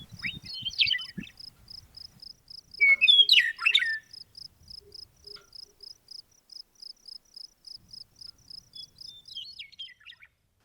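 A bird sings rich, varied phrases in open quiet desert of southeast Washington's Columbia Basin, while a steady, rhythmic insect-like chirping pulses underneath.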